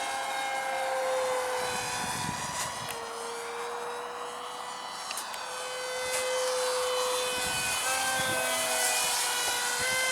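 A radio-controlled Depron foam F-100 Super Sabre propjet model plane flies overhead with a continuous high whining propeller drone that rises and falls in pitch as it passes, loud and steady across the whole stretch, with no talk.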